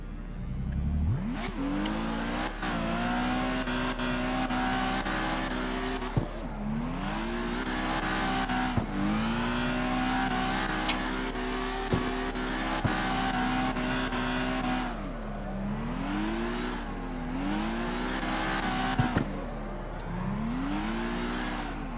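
A Nissan 400Z engine in the Tokyo Xtreme Racer driving game revs hard through repeated gear changes, its pitch climbing and dropping in a steady rhythm of loud, close acceleration without talk.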